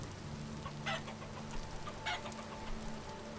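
Chickens in the Vintage Story survival game cluck and chatter at a low level over a steady droning background, with a few short sharper clucks standing out.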